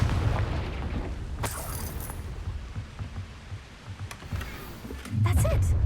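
In Hogwarts Legacy, a Confringo blasting spell goes off with low booming explosions and sharp bursts amid constant rumbling combat noise, loud and close, with a voice heard briefly.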